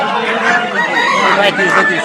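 Chickens and ducks crow, cluck and quack loudly close by amid the busy murmur of a crowded village poultry market in Haluaghat, Bangladesh, with voices talking underneath.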